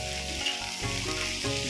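Jackfruit vegetable frying in a pan gives a steady, close, continuous sizzle that hisses on evenly without any voices.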